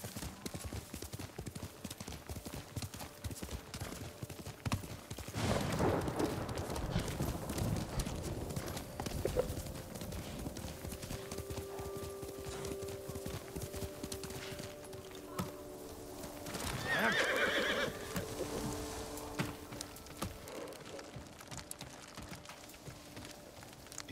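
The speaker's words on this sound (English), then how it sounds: "Athletic ass horse." Horse hooves clip-clop on the ground in the Ghost of Tsushima video game, a steady galloping rhythm running throughout at moderate loudness, with brief surges of other in-game action and scattered voices in the mix.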